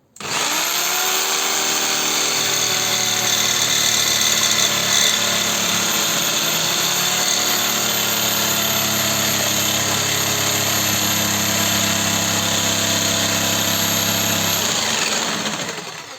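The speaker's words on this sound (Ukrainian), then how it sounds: "На метал візьму пилочку від Bosch. Попробуємо нею." A RONIX 4111 jigsaw fitted with a Bosch metal blade cuts through metal at lower speed. The motor whines loud and steady over a harsh, rapid reciprocating rasp that runs continuously for about fifteen seconds, then spins down.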